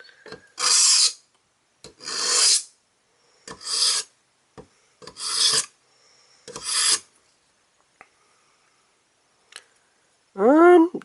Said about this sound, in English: I only sharpened the big straight edge